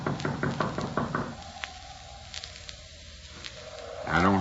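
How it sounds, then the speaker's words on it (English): Gentle knocking on a door in an old radio drama comes as a quick run of soft raps at the start, followed by a quiet stretch and a brief rustle at the end. "I reckon it won't hurt nothing to tap on the door sort of gentle."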